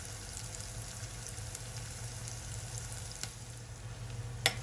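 Shallots with salt sautéing in a pan for a spicy Kerala fish curry, giving a faint, steady sizzle with no talk, and a brief clink near the end.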